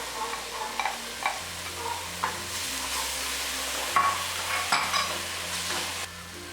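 Ground tomato being stirred into a frying pizza sauce in a pan, a soft sizzle under repeated scraping strokes of a spoon, close and moderately loud, with a low hum in the background.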